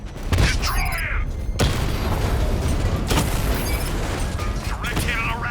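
A Rattler vehicle in Batman: Arkham Knight is blown apart by a direct hit: a loud, sustained rumbling blast with crackling debris and mechanical clatter, continuing in dense layers over game action and voices.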